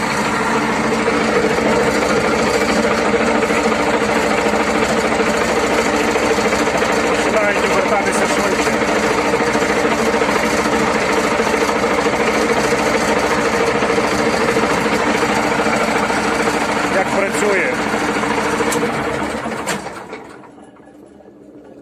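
A small engine on a TEHNOMUR GS 1500 branch shredder idles loudly and steadily with a constant mechanical drone, then stalls near the end, leaving quieter background.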